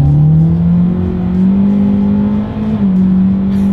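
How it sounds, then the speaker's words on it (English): A 2023 Hyundai Elantra in sport driving mode pulls hard from a rolling start, its engine droning loud and steady from inside the cabin, pitch climbing gradually, with a brief dip as it shifts. "let's see how quickly we can get our new 2023 Elantra here up to speed"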